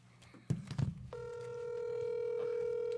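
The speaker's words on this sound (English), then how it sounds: "Her phone just started ringing." A telephone ringing during a call, a steady electronic ring tone starting after a brief muffled bump and continuing loud to the end.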